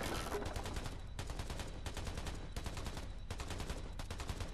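Sustained bursts of automatic machine fire in Black The Fall, loud continuous rattling broken by short pauses between volleys, with no talking.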